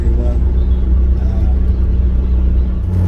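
An Austin 1100 drives along a lakeside road in fourth gear, its engine giving a steady low droning rumble mixed with continuous road noise from inside the cabin.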